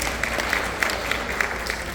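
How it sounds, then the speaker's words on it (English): Steady applause from an audience at a vacation Bible school thank-you, thanking the team that kept the children entertained, with a continuous wash of clapping and no clear talk. "give them a round of applause for keeping our kids entertained"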